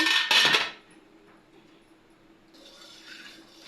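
A metal lid clatters down onto a pan of gulab jamun in a loud, brief burst of clanking, followed by quiet kitchen ambience and a faint hiss.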